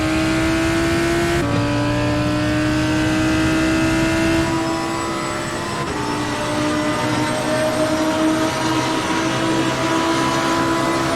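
GT3 race car engine in the sim racing game Assetto Corsa Competizione at Imola, a loud continuous high-revving drone with rising pitch sweeps and sudden gear-change drops, heard close and steady without talk.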